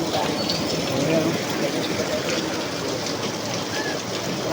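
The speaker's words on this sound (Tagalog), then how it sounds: "Lakas pa rin ang ulan mga idol." Heavy rain falls steadily in Lopez, Quezon in the evening, a dense, continuous wash of downpour with no break, filling the whole scene evenly without any voices.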